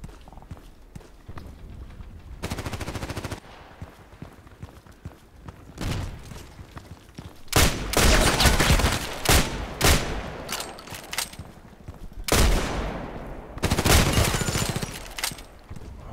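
IZH-43 shotgun gunfire in the video game Contract Wars: a quieter stretch with footsteps, then loud, close bursts of repeated gunfire, with brief pauses between volleys.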